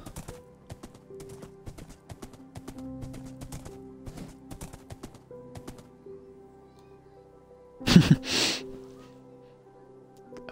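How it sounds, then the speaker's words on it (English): Hooves clip-clop steadily as a horse is ridden in a multiplayer video game, a soft rhythmic trot over faint game sounds, ending in a loud burst near the end. "I'm riding my horse."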